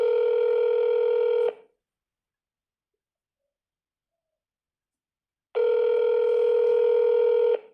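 Jail phone call telephone tones: two loud, steady multi-tone bursts separated by about four seconds of silence, clear and close with no voices.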